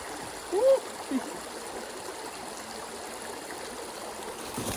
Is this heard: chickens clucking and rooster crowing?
no